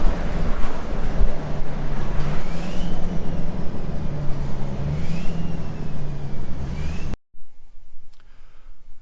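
A 4wd Kodiak truck with a turbo engine rumbles on a test drive, with a rising turbo whine swelling a few times over a loud engine drone before the sound cuts to near silence.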